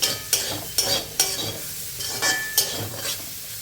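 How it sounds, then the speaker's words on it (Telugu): Onion pieces and green chilies fry in oil in a pan, a steady sizzle broken by repeated scraping stirs of a utensil against the metal, roughly every half second, close and clear with no talk. "ఇప్పుడు వీటిని ఉల్లిపాయ ముక్కలు పచ్చిమిర్చి వేగే వరకు ఫ్రై చేసేసుకోవాలి"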